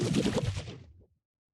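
A designed water sound layer built in the Radium sampler, a short dense burst of splashy, bubbling texture that fades out after about a second, alone and fairly quiet.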